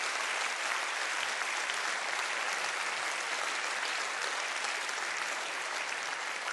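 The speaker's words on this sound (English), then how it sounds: "I ask you to give all of them an applause" Dense, steady applause from a large audience filling a hall, continuous and loud from start to finish with no pauses or voices breaking through.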